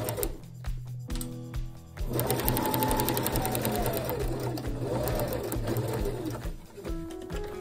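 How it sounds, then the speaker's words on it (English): Sewing machine stitching a French seam, starting with short back-stitch bursts and pauses, then a steady, close, rhythmic whirring run of stitching that slows and stops near the end. "All right, so now I'm gonna sew."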